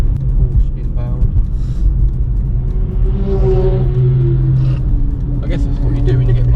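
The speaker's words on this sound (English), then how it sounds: "Porsche inbound." A Porsche approaches on the Nürburgring, its engine note swelling and rising in pitch over the steady low rumble of a car being driven along the track.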